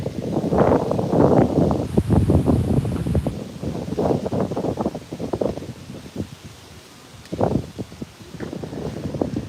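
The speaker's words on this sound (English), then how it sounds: "I know it's a little windy," Gusty wind in New York's Central Park buffets the microphone in heavy, uneven rumbling bursts, easing briefly before surging again.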